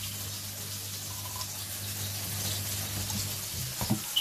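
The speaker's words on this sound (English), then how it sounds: "so what I'll do is I'll put some water in it." Water poured into a hot pan holding leftover chhole masala gives a steady close sizzle and watery hiss that runs throughout, with a few stirring clatters near the end.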